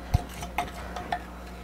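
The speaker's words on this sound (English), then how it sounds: "I add 5 cups of flour to scrape out the bowl so I get all the excess out of here" Flour being scraped around a mixing bowl while making pastry: a few faint, close clinks and scrapes of a utensil against the bowl in a quiet room.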